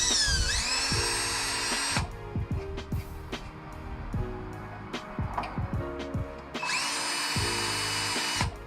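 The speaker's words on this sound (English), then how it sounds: "so I'm gonna start drilling." A power drill with a spot weld drill bit bores out spot welds on an E30 car body, whining loudly in two bursts with rattling, clicking tool noise and scraping in between.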